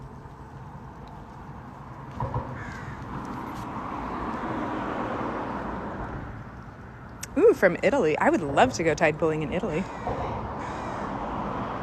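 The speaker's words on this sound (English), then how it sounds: "Oh, we've got the crows joining us down here now." Crows caw repeatedly in a loud, close burst of harsh calls near a tide-pool shore at low tide, with a person speaking throughout and the cawing rising over the talk in the second half.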